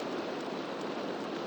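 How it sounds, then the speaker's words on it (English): Steady rain falls in the video game Minecraft, a continuous even hiss of drops at moderate level with no talking. "it's raining and it's laggy"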